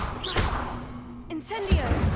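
Levioso levitation spell cast in the Hogwarts Legacy video game: a soft magical whoosh that swells and fades, followed by a brief thud, with game ambience underneath.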